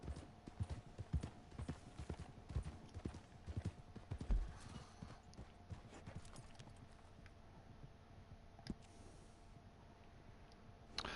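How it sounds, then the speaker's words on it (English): Horse hooves clip-clop in the Red Dead Online video game, with quick, repeated rhythmic steps that are faint and fairly close, then fade into a quieter stretch. "Horses."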